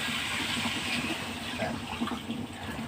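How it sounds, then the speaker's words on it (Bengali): Water pours steadily into a pan of fried-down potato and fish curry during home cooking, a close, continuous splashing rush that stays fairly loud throughout. "তো আমি এখন জল দিয়ে দিচ্ছি।"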